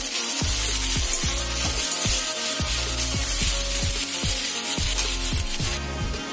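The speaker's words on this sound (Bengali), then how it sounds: "তো প্রথমে পেঁয়াজটাকে সোনালি করে ভেজে নেব।" Onions frying until golden in a pan: a steady, bright sizzle runs throughout, with a regular scraping rhythm as they are stirred roughly twice a second.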